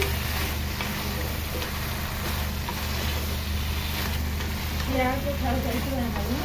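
Crab masala with coconut stir-fried in a pan produces a soft, steady sizzle under a low background hum, with faint stirring and what may be a brief murmur of a voice.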